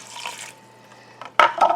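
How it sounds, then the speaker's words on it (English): Water splashes into a cooking pot of kale and turnip greens in a home kitchen, a short burst of pouring and dripping after a quieter stretch of faint background sound. "I'm going to add just a little bit more water"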